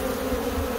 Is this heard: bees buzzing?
yes